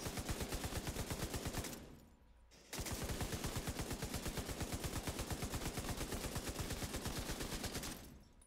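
Rapid automatic gunfire in The Division video game, loud sustained bursts of evenly spaced shots with a short pause early on and another cutoff near the end.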